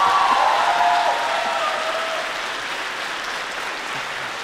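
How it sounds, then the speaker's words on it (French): Second round of audience applause at a conference, a dense roomful of clapping starting loud and tapering slowly to a softer, sustained patter with no voices over it. "je sens qu'il va y avoir une deuxième salve d'applaudissements"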